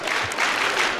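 A wrestling crowd in Los Angeles applauding and cheering during a mini's match, a loud, steady wash of clapping throughout.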